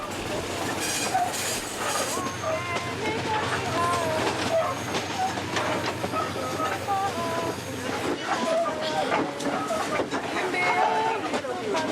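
A train runs on rails in Katanga, Congo, heard from inside the driver's cabin with passengers aboard, giving a continuous rumbling clatter with metallic squeals and clicks throughout, under steady background chatter.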